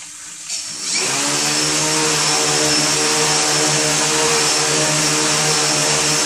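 A vectored thrust motor spinning a propeller on a thrust testing rig spins up within a second into a loud, steady, high-pitched whine with a buzzing tonal hum, holding constant and close for the rest of the stretch.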